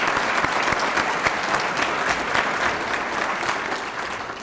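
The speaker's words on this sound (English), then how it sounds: "Janie, Carol, and Kathy deserve a round of applause as well" Audience applause at a chamber of commerce awards ceremony, a dense, steady wash of clapping from a full room that holds even and loud throughout, fading slightly toward the end, with no voices.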